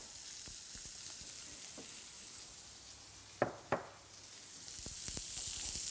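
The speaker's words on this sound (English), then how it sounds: "They're browning off nicely in the pan there." Beef browns in a hot pan for a wine stew, giving a soft, steady sizzle and crackle close by, broken by a couple of sharp clinks or stirring knocks midway.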